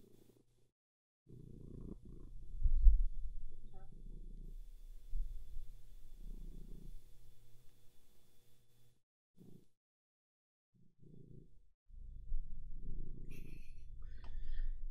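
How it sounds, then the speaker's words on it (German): Lilly the cat purring close by in soft, low rumbling stretches that come and go, with short quiet gaps between bouts and no talking. "Schnurren ist viel besser als Musik."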